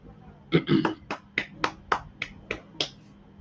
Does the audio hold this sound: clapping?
yes